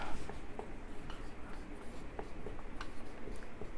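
Pen scratching on paper while chemistry notes are written out, soft quick strokes and taps in an uneven rhythm, faint and close, with no talking.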